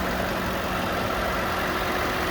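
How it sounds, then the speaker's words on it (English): Steady, even rumble of a 2019 Mercedes-Benz S560 4-litre V8 engine idling, close and constant, with a smooth low hum and no voices. "You'll hear the engine idling very happily here."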